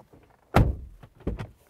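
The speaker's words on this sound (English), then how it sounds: "Sounds great. Very nice and confident slam." Door of a 2023 Isuzu MU-X seven-seat SUV slammed shut, one solid low thunk up close followed by a softer latch knock a moment later.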